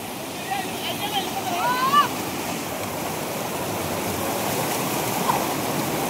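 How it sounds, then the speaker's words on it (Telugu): A village stream rushes with strong force, a steady broadband water roar filling the whole clip, with a faint voice briefly heard over it. "చూడండి నీళ్ళు ఫోర్స్కి మనుషులు కూడా కొట్టకపోతున్నారు"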